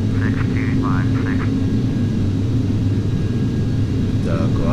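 Propeller airliner engine droning steadily in Microsoft Flight Simulator X, a video game, on a takeoff from Paris Orly, a loud continuous low rumble throughout with brief voice-like chatter near the start and end.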